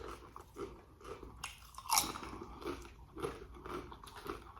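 Close, crisp crunching of Chipotle tortilla chips being bitten and chewed, a run of sharp crackling bites spread over a few seconds with one especially loud snap near the middle.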